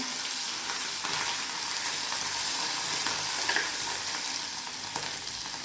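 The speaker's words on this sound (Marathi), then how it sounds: "हा थोडा मसाला राहिला आहे हा याच्यामध्ये टाकून द्यायचा हे बघा या छान हलवून घ्यायचा" Stuffed bitter gourds fry in a pan as masala is stirred through them, giving a constant close sizzle broken by soft scraping and clicks from the stirring.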